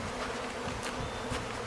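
Honey bees buzz in a dense, continuous drone at a hive during a beekeeping lesson, close and steady with no voices.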